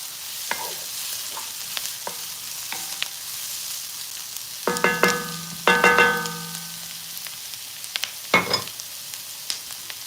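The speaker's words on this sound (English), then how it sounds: "we're just letting the onions cook for a few minutes" Onions fry in a pan with a soft continuous sizzle, broken by several louder scraping and stirring clatters of a utensil against the pan.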